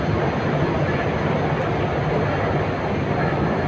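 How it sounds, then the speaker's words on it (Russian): Riding an escalator inside the Depo food court produces a steady, even mechanical rumble with a low drone that holds at a constant level throughout. "сейчас буду подниматься на эскалаторе"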